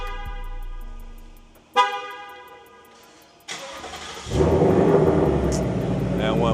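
A car engine cold-starting at a late-night rooftop car meet in Midtown Atlanta: two short cranking bursts, then the engine catches and settles into a loud, steady idle, with no talk.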